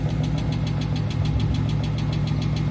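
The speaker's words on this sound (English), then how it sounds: "that tick ain't, man. Definitely don't sound good." Dodge Scat Pack V8 idling steadily after a fuel pump replacement, with a rapid, regular ticking knock riding over a loud, close, continuous engine rumble.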